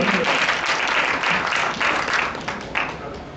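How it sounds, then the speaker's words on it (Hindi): Audience applause fills a class session as a steady wash of many hands clapping at close range, holding loud and even for a few seconds with slight swells. "ताली होनी चाहिए।"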